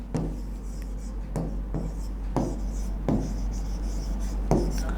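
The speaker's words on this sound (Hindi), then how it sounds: "तो यहां पे हम लिखते हैं" Chalk or marker scratches across a board in a steady series of short writing strokes, close and fairly quiet, with no talking.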